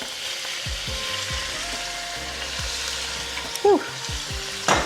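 Raw shrimp, a pound of it, sizzling loudly in a hot pan with garlic. A steady frying hiss runs throughout, with clinks of a utensil against the pan, and one brief exhaled exclamation near the end.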